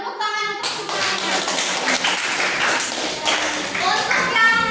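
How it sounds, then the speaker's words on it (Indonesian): A classroom of pupils claps together for all the student groups, a dense patter of hands starting abruptly after a brief moment of children's voices, with kids talking and calling out over the clapping throughout. "Tepuk tangan untuk semuanya."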